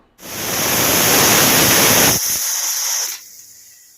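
A pressure cooker on a gas stove lets out one loud, hissing whistle of steam that lasts about three seconds, close by, then cuts off abruptly.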